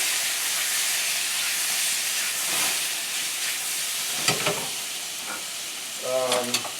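Tomatoes and onions frying with curry powder in a very hot pan, a loud steady hissing sizzle with occasional stirring scrapes near the end, close up and without speech.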